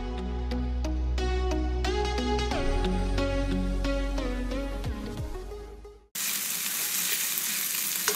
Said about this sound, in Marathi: तेल तापल्यावर त्यामध्ये आपल्याला आता हा ठेचा तळून घ्यायचा आहे।